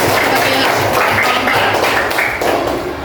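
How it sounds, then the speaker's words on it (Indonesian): A classroom of students claps for group 3, a dense, steady patter of many hands filling the room for about three seconds with no pauses. "Oke, tepuk tangan untuk kelompok 3."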